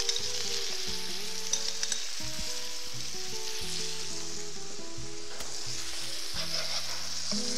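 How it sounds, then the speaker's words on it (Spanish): Onion sautés in a pan with garlic-marinated meat, a steady close sizzle running throughout, with a faint melodic background tone underneath. "en el centro vamos a incorporar la cebolla, de la cual vamos a cristalizar"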